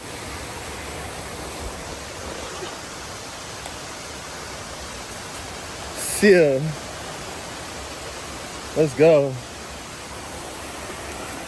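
A smaller waterfall heard from near a main road: a constant broad rush of falling water fills the whole stretch, steady and loud, with a couple of brief voices over it.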